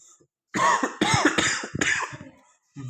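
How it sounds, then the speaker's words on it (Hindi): A person coughs and clears their throat in a rough cluster of bursts, close and fairly loud, then falls quiet before a short sound at the end. "अब इसे खाते क्योंकि घर वालों ने दिए, क्योंकि खांसी बढ़ती जा रही है"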